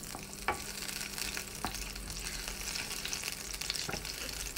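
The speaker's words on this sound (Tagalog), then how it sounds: "ako'y magsasangag ng bahaw. Lagyan ko lang siya ng garlic." Leftover rice and garlic sizzle steadily in a pan, turned now and then by a utensil that scrapes and taps the pan in a few sharp knocks, all at moderate loudness with no talking.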